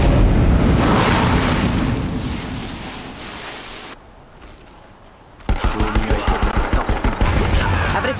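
Cannon fire in the Horizon Zero Dawn video game: a loud roaring barrage that fades to a lull, then a rapid run of regular heavy blasts fires in quick succession up close.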